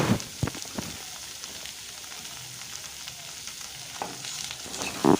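Chopped boiled eggs are stirred and fried in a pan, giving a steady soft sizzle with a few sharp scrapes of a spoon at the start and end, close and without talk.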